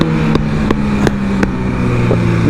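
A 2024 BMW S1000RR sportbike engine running loud and close with a steady droning tone, broken by quick sharp clicks and blips of auto-blip quick-shifter gear changes in a regular rhythm.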